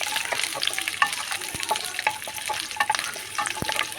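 Cinnamon, cloves, garlic, ginger and peppercorns frying in hot oil, a brisk close crackling sizzle with frequent small pops and stirring scrapes, continuous and without speech.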